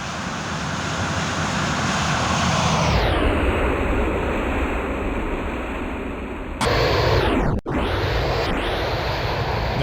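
Engines of an MD-82 airliner in X-Plane 11 rush past in a simulated flyby, a loud steady roar whose pitch sweeps down as the jet passes, followed by abrupt shifts in the engine tone as the view changes, no voices.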